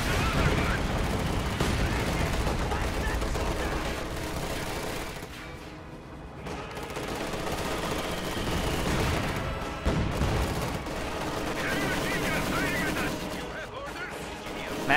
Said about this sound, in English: Maxim firing on these Fallschirmjäger